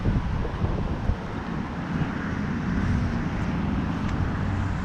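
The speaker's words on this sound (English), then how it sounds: "So y'all can hear that wind." Steady wind on a Florida fishing flat buffets the microphone with a constant low rumble and hiss, with no voices.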